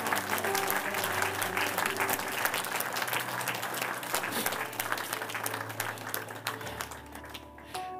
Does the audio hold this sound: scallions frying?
no